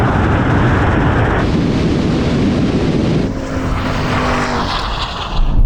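A Porsche accelerates hard in a drag race, a loud, continuous roaring rush of engine and wind noise that holds steady throughout, with the tone shifting partway through as the car passes.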